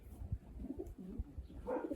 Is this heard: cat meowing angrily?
no